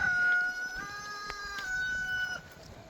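A rooster crows once in a long drawn-out call near a chicken run, fairly close against soft outdoor background.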